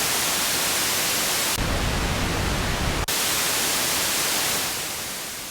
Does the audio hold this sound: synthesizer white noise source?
yes